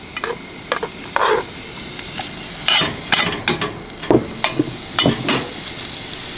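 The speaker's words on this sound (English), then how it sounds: "Bacon frying in a skillet out in the woods on the trap line." Bacon fries in a skillet outdoors in the woods, with a faint sizzle under repeated close scrapes and clanks of a utensil against the pan, coming in uneven bursts.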